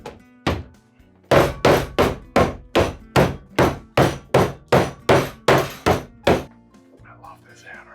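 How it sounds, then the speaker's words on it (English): Hammer crushing ice into pebble ice for piña coladas, a steady series of about fourteen loud, sharp thumping blows in quick rhythm, close and alone, ending in quiet. "And now the fun part, to make our pebble ice or crushed ice here."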